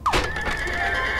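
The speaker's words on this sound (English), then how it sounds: "How about ride on the horse and bring them down?" A horse in the Scribblenauts Unlimited video game gives one short, bright whinny, a quick rising then wavering call heard alone and close up.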